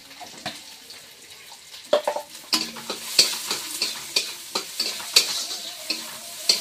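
Panch phoron five-spice tempering frying in a pan with bay leaves and tomato, crackling sizzle punctuated by repeated sharp clinks and scrapes of a spoon, growing busier and louder.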